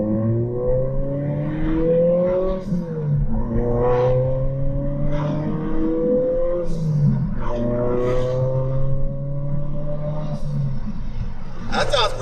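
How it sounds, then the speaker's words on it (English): A car fitted with a Turbosmart Kompact dual port blow-off valve accelerates through the gears, the engine note climbing repeatedly between shifts, with brief hissy bursts at each shift and the driver speaking over it. "I'm gonna do a quick pull to see if we can hear the blow-off valve."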